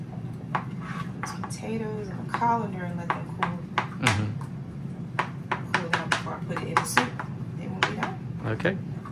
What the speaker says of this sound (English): One more egg to cut up